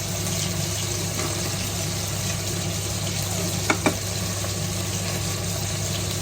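Food sizzling in a pan for pea soup, a steady loud frying hiss with a low hum underneath and a couple of brief clicks near the middle.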